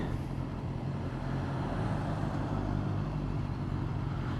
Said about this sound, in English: Just got a little bit of traffic here.